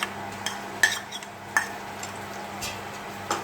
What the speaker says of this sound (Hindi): अब 2-3 मिनट इसको इसके साथ फ्राई करूँगी।